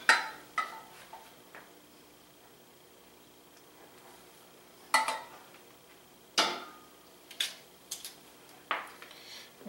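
Air-fried garlic wings being tossed in sauce in a bowl, giving a series of separate clattering knocks and scrapes against the bowl, some spaced out and some closer together, with quiet pauses between them.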